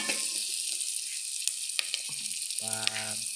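Sardines frying in a hot pan until golden brown, a continuous close sizzle and crackle with occasional sharp pops.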